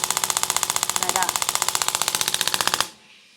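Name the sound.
massage device with nozzle popping up and down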